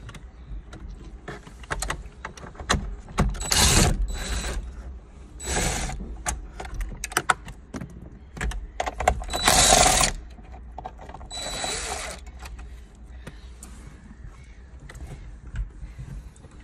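Phillips screws being unscrewed from a Toyota Hilux head unit, several short bursts of close ratcheting, mechanical clicking with quieter pauses in between, no speech.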